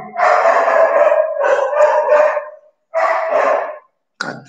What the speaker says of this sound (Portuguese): Essa cadela faz muito barulho.